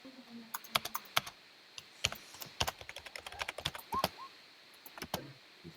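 Close computer keyboard typing: irregular, crisp key clicks in quick clusters and short pauses, alone with no voices.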